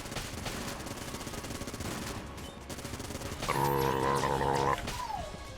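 Rapid bursts of Yari launcher explosions and gunfire crackle in the video game Exit the Gungeon, a dense clattering barrage joined midway by a bright sustained electronic tone.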